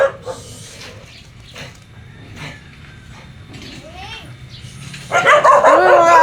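Dogs at a home during fiesta time bark in short bursts over steady background noise, growing louder and denser near the end, with someone talking at a distance.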